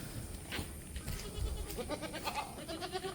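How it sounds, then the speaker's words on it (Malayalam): A Malabari mother goat and her two young kids, one male and one female, bleat faintly several times against quiet farmyard background noise, with no talk. "ഒരു മലബാരി അമ്മയാടും അതിൻ്റെ കടിഞ്ഞൂൽ പ്രസവത്തിലെ ഒരു മുട്ടൻകുട്ടിയും ഒരു പെടക്കുട്ടിയും"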